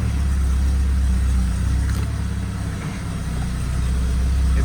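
A 1972 MG Midget's engine runs with a steady, loud low rumble as the car pulls away, a slight dip and recovery in the drone along the way, no talking.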